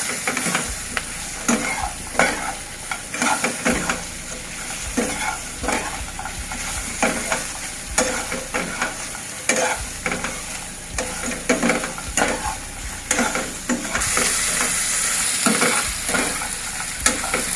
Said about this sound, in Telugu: ఈ ముక్కలు వేసుకుందాం. వేసుకొని బాగా మిక్స్ చేసుకోవాలి.